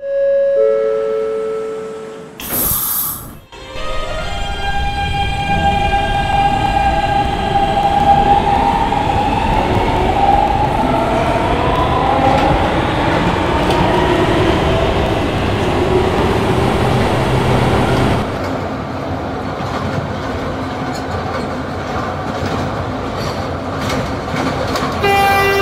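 A subway E train runs between stations, opening with a brief loud horn-like tone before a steady, loud rumble and rail clatter that holds for most of the stretch, then drops to quieter running near the end.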